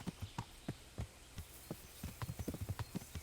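Horse hooves clip-clop at a steady walking pace in the medieval game Kingdom Come: Deliverance, many close, distinct hoofbeats across rough ground with no voices over them.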